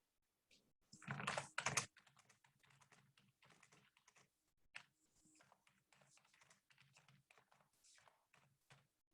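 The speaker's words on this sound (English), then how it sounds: "I'm typing in here some answers." Typing on a computer keyboard, quiet rapid key clicks in an irregular run, with a louder burst of keystrokes near the start and faint talking in the background.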